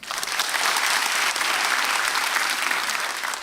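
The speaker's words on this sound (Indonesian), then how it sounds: "Boleh tepuk tangan." A studio audience at a stand-up comedy roast claps in a full, sustained round of applause that swells quickly and stays even, then thins slightly toward the end.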